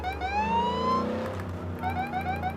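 A video game police siren on a Crown Vic Police Interceptor in Forza Horizon 3 wails with rising and falling tones over a steady engine hum, continuous and fairly close.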